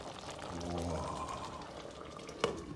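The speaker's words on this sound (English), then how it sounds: "Definitely a nice boil going on there." Chicken mboga stew with vegetable stock at a rolling boil in a pot, a soft, steady bubbling and simmering heard close, with one brief clink near the end and no speech.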